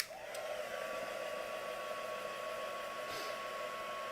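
A hair dryer blows a steady, airy whine close by, drying gesso on an art surface, running continuously throughout with a slight pitch shift at the start.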